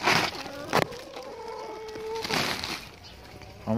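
Rooster and hens clucking inside a backyard chicken coop, with a sustained cackling call in the middle and sharp short squawks before and after, heard close by with some rustling.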